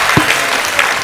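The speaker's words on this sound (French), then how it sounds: "Sous vos applaudissements" A hall audience at a youth human rights debate final in Guinea breaks into loud, dense applause, a continuous wash of many clapping hands close and full.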